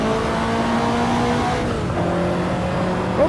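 Ferrari 288 GTO engine in the racing game Project Cars 2, a steady droning engine tone with gear-shift pitch changes, loud and continuous with no talk.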